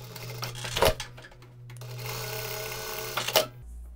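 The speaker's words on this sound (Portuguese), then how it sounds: "E aí é só passar uma costura reta" A sewing machine stitches a straight seam on a pocket of a hospital surgical uniform, running in a steady close whir between short clunks as it starts and stops.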